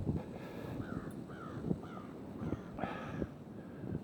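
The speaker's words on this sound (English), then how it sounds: "Oh, I hear crows." Several crows caw in a loose sequence of hoarse calls, moderately distant, over a windy snowstorm backdrop with soft rumbling noise between calls.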